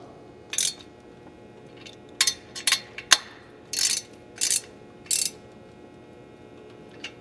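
A ratchet wrench snugs up muffler bolts on a John Deere 1025R tractor during a turbo kit install, giving several short, separate bursts of metallic clicking with pauses between them, close by.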